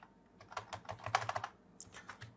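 Quick, irregular clacks of a computer keyboard as someone types a new material name in Revit, close and fairly quiet, with no voices.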